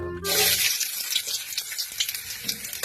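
Tap water gushes and splashes steadily over a native chicken being rinsed, starting abruptly and continuing with uneven spattering throughout.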